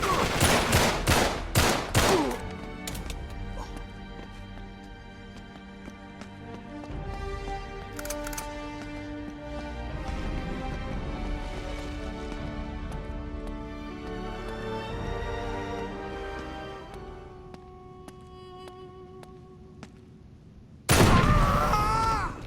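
Rapid bursts of gunfire from the video game Uncharted 3 open the scene, loud and close, then give way to sustained music with occasional shots, before a sharp, loud burst near the end.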